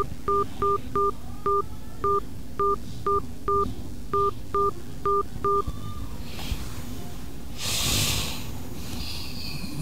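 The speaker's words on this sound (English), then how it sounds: "Please enter the telephone number you wish to dial now" Telephone keypad DTMF tones ring out in a quick series of about a dozen short, evenly spaced beeps entered on a phone call, followed by quieter breathy hiss and rustle near the end.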